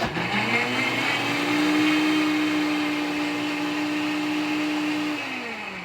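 A NutriBullet Ultra 1200W blender runs steadily for several seconds, a loud motor whine with a strong sustained tone that drops away as it slows near the end.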